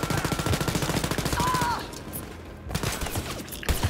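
Rapid automatic gunfire from the video game Wolfenstein: Youngblood rattles loudly for about two seconds, then gives way to scattered shots and game noise.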